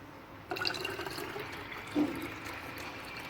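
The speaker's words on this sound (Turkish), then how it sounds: "Şimdi şişeme dökeceğim." Boiled eggshell water is poured into a bottle, a steady close trickle starting abruptly with a brief louder gush partway through, without talk.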